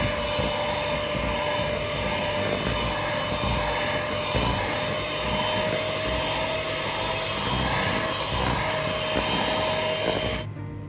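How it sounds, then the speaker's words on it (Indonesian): An electric hand mixer beats butter with sweetened condensed milk for a chocolate lapis legit cake, a steady loud motor whine running continuously and close for about ten seconds before stopping abruptly. "Udah masukkan susu kental manis, kita kocok lagi menteganya ya."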